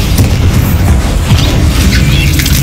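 A loud, booming Bombarda explosion spell in Hogwarts Legacy, with a deep heavy blast and crackling debris continuing for a couple of seconds, dense and close.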